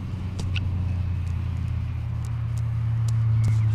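Road traffic rumbles past an urban wild camp at night, a steady low drone from nearby vehicles that swells toward the end, with faint scattered clicks and no talk.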